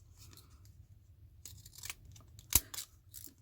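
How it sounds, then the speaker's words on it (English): Dull scissors snip through tin foil in a few faint, scattered cuts, with one sharper crisp snip standing out near the end against a quiet background. "Guessing if I cut tin foil,"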